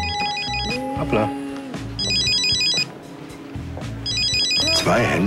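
A mobile phone rings with a trilling electronic ringtone in bursts repeated three times, loud and close, while people talk over and between the rings.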